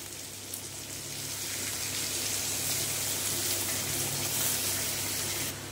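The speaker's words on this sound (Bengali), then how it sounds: "এবার দিয়ে দেব জল" Water pours steadily into a pan of fried spice masala for a mango chicken dish, a close, continuous rushing hiss that fades out abruptly at the end.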